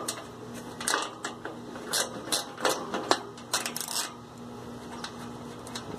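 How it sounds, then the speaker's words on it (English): Screws come out of a heat pump's top cover, heard as close mechanical ratcheting clicks and small metallic rattles in uneven bursts, quieter toward the end. "let's try to get these screws out of here, and we'll see if we can lift up this top"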